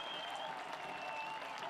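Stadium crowd applauding a substituted soccer player leaving the pitch at a USL match between Sacramento Republic FC and Rio Grande Valley FC, a steady wash of distant clapping running throughout.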